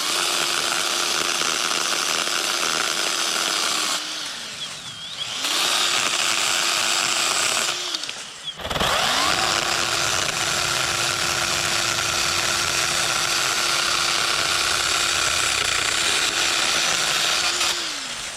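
A Ryobi compact chainsaw runs loud and steady, revving while cutting a branch, briefly dropping to idle twice before bearing down again for a long continuous cut.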